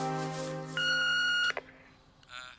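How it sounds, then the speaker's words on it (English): A steady electronic tone sounds, then a brighter, higher beep holds for under a second and cuts off, followed by faint clicks and quiet room noise. "so please speak after the beep."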